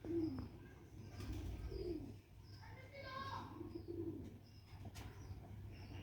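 Pigeons offered for sale in Sialkot coo in soft, low, rolling calls that repeat every second or so, fairly close, while someone talks over them.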